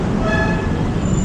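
An MRT train rolls past close to a station, a steady loud rumble with a faint high whine and metallic ringing, heard alone without talk.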